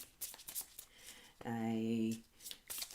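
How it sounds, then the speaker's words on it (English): A brief burst of tarot card shuffling, a quick riffling flutter lasting under a second, with faint background sounds before and after. "We just shuffle them."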